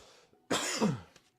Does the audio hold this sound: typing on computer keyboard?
no